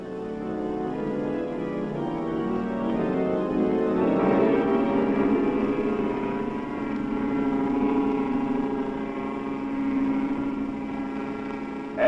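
A submarine's engines run dead slow ahead in a steady, droning mechanical hum that swells and eases a little, with no voices over it.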